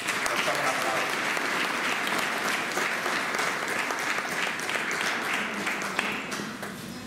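An audience applauds at a living nativity scene in Panettieri, a full, sustained round of clapping that stays strong and even before easing slightly at the end.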